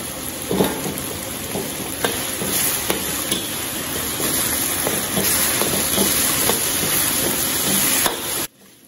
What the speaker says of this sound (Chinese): 炒出香味以后加入米线豆瓣酱，炒出红油。